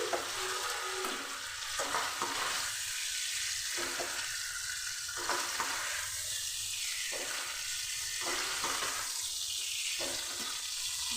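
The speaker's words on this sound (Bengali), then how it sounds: "উল্টে পাল্টে নিচ্ছি আর এবার আমার মাছটা ভাজা হয়ে গেছে" Tangra fish frying in oil in a pan, a continuous crackling sizzle broken by repeated scraping stirs as the pieces are turned over, close and alone.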